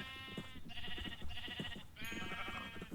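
Livestock in a farming video game bleat and low in several repeated, harmonic calls, overlapping one another at close range with no talk.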